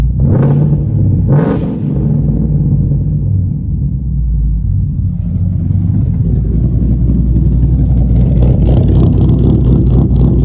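A 2014 Ford Mustang GT 5.0 V8 with a Bama Ghost Cam tune rumbles close by with a deep, lumpy idle, then its pitch climbs as it revs up loudly toward the end.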